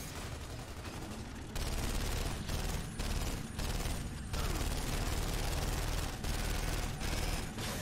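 Machine pistol fire rattles in Gears of War 2 in loud, dense bursts with brief gaps between them, layered over heavy combat noise for several seconds.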